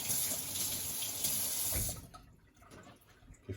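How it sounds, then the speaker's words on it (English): A kitchen faucet runs strongly as a knife is rinsed before cutting up a chicken, a steady close hiss of water for about two seconds before it shuts off, leaving faint handling noises. "I always like to give my knives a rinse"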